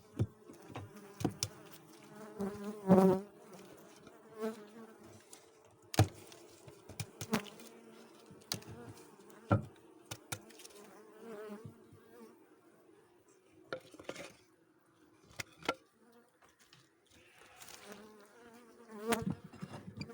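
Honeybees of a mite-weakened colony hum at the hive in September, a low, steady drone close by, with occasional soft clicks and knocks of frames scattered throughout.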